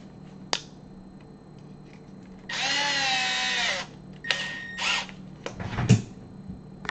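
A power drill with a T15 bit drives screws into an Xbox, with one sustained whir of about a second and a half followed by several shorter bursts, plus small clicks of handling in a quiet room.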